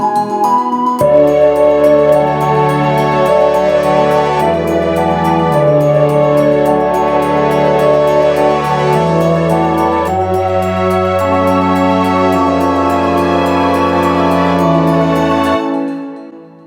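An instrumental song section builds without vocals, with washy synth-keys pads over sustained low notes and a steady ticking high pulse, loud and continuous before fading out at the end.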